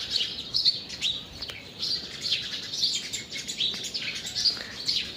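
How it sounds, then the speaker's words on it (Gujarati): Sparrows chirping at a rural farm in Gujarat, a dense flock twittering continuously with overlapping bright calls, fairly close and steady throughout, no talking. "ચકલીનું કોલ હવે અત્યારે અહીં બધી ઘેરી વળીને બેઠી હતી."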